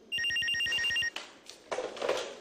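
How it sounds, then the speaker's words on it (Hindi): Telephone bell ringing indoors in a household, a rapid series of bright electronic rings for about a second, followed by clatter and handling noises. "लेकिन बाजे तो फोन रहा था"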